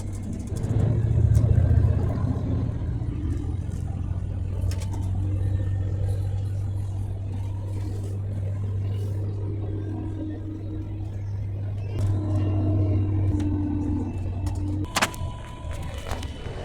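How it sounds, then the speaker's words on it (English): Inside an Alsa coach bus travelling from Barcelona to Andorra, a steady low engine drone and road rumble continue throughout, with occasional faint rattles and clicks from the cabin. "I'm now on the bus to Andorra."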